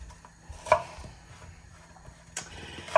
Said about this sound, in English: all I'm going to do is chop some onions up.